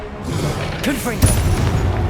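A Confringo spell explosion in the Hogwarts Legacy video game goes off as a loud boom at about 1.2 s, followed by a rumbling tail. It sits within a dense, busy combat mix with voices and other spell effects around it.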